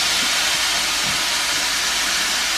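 Chicken pieces sizzling hard in very hot oil in a pan, a loud steady hiss filling the whole moment with faint crackles underneath and no talking.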